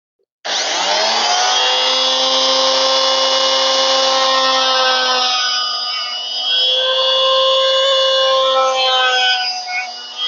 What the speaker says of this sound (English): I'm just going to multi-tool that away